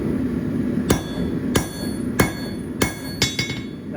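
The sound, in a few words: hammer forging box jaw tongs, setting down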